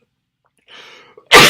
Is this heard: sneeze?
yes